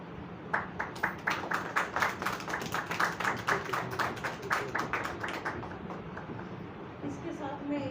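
Audience at a Hindi poetry gathering applauding the welcome of Rajneesh Goyal: a sparse, rhythmic round of hand claps, fairly close and steady for several seconds before tapering off, with some murmuring underneath.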